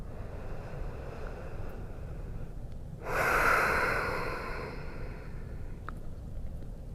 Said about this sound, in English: Bring your heartbeat back into balance by breathing really, really nice and long.